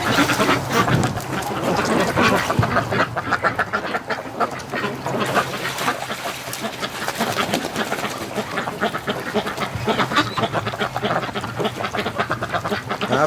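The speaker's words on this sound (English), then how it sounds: "Happy ducks." Several ducks quack loudly and continuously in an outdoor water tub in freezing -10°C weather, a busy overlapping chorus of calls close by with no pauses.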